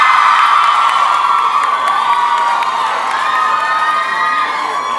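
A crowd of fujoshi fans at a yaoi convention scream excitedly, a loud, sustained, high-pitched mass of cheering and shrieks that fills the space without pause.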